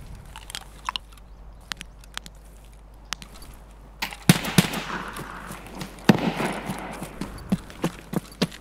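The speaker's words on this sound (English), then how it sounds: "And he's shooting at someone kind of close." Gunfire in the Escape from Tarkov video game pops out as a scattered series of sharp, fairly distant shots, sparse at first and then quicker and louder in the second half.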